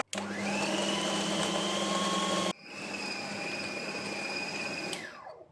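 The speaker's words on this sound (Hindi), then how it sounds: "तो इसको हम पीस लेंगे।" An electric grinder whirs loudly as it grinds a kebab mixture of meat, egg, crushed red chili, black pepper, garam masala and green chilies. It runs in two steady bursts separated by a brief pause, then winds down.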